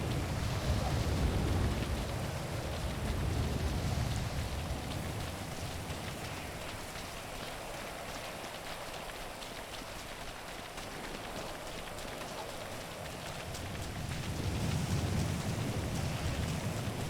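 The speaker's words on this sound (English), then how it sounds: "Still raining. Rain stops in 6 minutes." Steady rain pours down in a GTA 5 game world, a dense continuous hiss of drops on surfaces that swells slightly at the start and end, with no voices.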